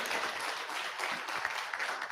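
An audience applauds a guest speaker at a community center event, with steady, dense clapping sustained at moderate volume throughout and no break.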